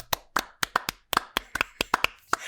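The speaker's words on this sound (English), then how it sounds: "giving a round of applause to everyone working in the medical field" Two people clap along together, about a dozen sharp, close hand claps in an uneven rhythm with quiet gaps between them, no talk over them.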